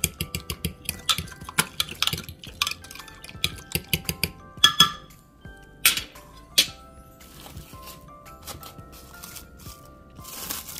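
Milk, sugar and active dry yeast being mixed in a bowl, with a run of sharp clinks and taps of utensil against dish, some louder knocks in the middle, and faint background sounds.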